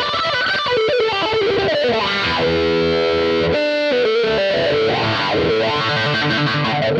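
A loud, heavily distorted acoustic-electric guitar through a wah pedal and electric-guitar effects, sweeping wah, sustained notes ringing into a droning feedback howl, played alone without voices.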